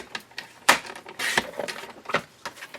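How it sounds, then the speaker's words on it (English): Paper being trimmed to 5 1/4 inches for a handmade card with a paper trimmer, giving a few close, crisp slicing and scraping strokes in bursts, with short quiet gaps between them and no talking. "And then we're going to cut this one at 5 1/4."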